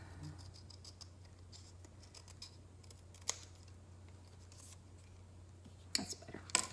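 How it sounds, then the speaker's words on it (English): Scissors trim paper for a handmade greeting card in a quiet room, giving a few faint snips and light paper rustles over a low steady hum, with a couple of sharper clicks near the end. "I'm gonna have to trim that a little bit."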